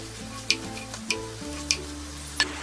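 Fried chicken pieces stirred into sauce in a pan for dragon chicken, four crisp evenly spaced spatula clicks against the pan over a steady low cooking hum.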